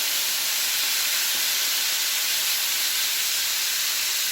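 Chorizo frying in a pan for paella as onions and peppers go in, a loud, steady hiss of sizzling that carries on evenly with no voices.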